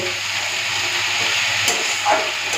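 Leafy greens fry in a pan as they are stirred, a steady close sizzle with a constant low hum and a couple of soft scrapes near the end.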